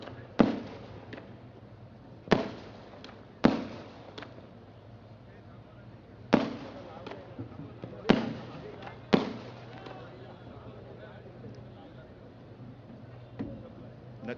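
Firecrackers burst at a political rally, about ten sharp, loud bangs spaced irregularly a second or more apart, each with a short echoing tail over a low steady background hum and faint talk.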